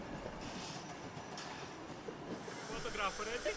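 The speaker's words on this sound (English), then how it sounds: "The train glides by into the loop line and comes to a gentle stop." A heritage narrow-gauge train on the Gulbene-Aluksne railway rolls slowly into a loop line and eases to a halt, with soft rumbling, hiss and faint wheel squeal at moderate distance.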